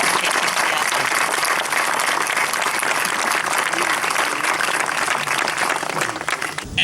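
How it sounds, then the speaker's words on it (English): Audience applause at a Vietnam Moving Wall memorial event, a dense, steady wash of many hands clapping that holds nearly the full length before easing slightly at the end. "Please join me in giving them all a round of applause for their hard work and"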